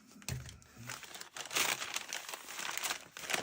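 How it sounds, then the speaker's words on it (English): Crinkly plastic packaging being unwrapped from a reproduction switch support bracket for an IMSAI 8080 control panel, a close, continuous crackling rustle throughout. "I can get it to unwrap here."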